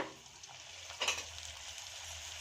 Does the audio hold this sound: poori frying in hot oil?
yes